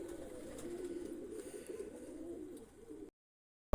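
Pigeons cooing softly in a loft or coop, a low steady murmur of several birds close by, without talk, ending in a brief silence followed by a short burst.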